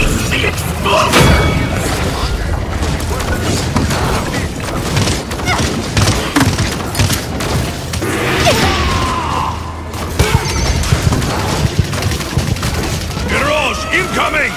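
Explosions and booming weapon blasts go off in the video game Paladins, loud and frequent over a busy, clattering mix of game effects, with speech mixed in.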